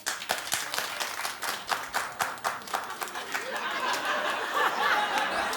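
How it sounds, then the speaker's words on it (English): A studio audience on The Wendy Williams Show claps in sharp, fairly rhythmic bursts, then breaks into denser continuous clapping with some laughter mixed in. "I said clap."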